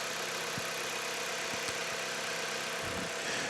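A four-cylinder car engine runs at a steady idle, a continuous, close mechanical hum and rumble without talk.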